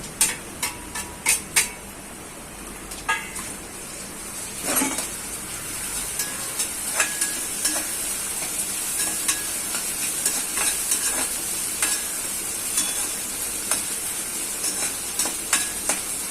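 Ginger, garlic and chilli paste frying with onion in a pan for prawn manchurian gives a continuous close sizzle, punctuated by regular sharp clinks and scrapes of a spoon against the pan.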